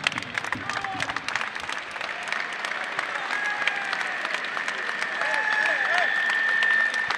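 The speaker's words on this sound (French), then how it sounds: "Applaudissements, mesdames et messieurs." A stadium crowd at La Mosson applauds during a farewell speech, sustained broad clapping and cheering that builds toward the end, with whistles and shouts scattered through it.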